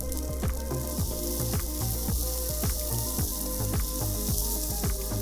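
Japanese fried rice seasoned with toasted sesame oil and chopped scallions sizzles loudly in a hot pan, with a steady frying hiss and rhythmic scraping, tossing thumps repeating about twice a second, and no talking.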